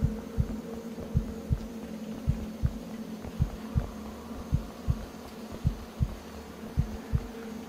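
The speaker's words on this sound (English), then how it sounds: "There's a heartbeat going off." Heartbeat effect from the video game Escape the Glitch: soft, regular low thumps in an uneven double rhythm repeating steadily over a faint hum, with no talking.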